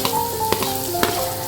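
Onions sizzle in hot oil in a pan as they go in at the start of an egg masala, a steady close frying hiss with a couple of sharp stirring clinks and no voices.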